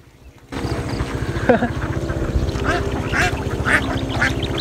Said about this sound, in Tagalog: Dami, puro itik yan guys oh.